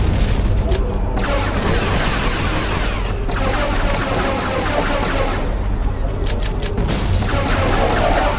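Heavy gunfire and explosions fill a battle in the video game Star Wars Battlefront II. Dense, continuous blasts and booms are layered with mechanical effects, loud throughout with no let-up.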